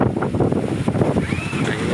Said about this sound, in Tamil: செம செம காற்று அடிக்கிட்டு பாருங்க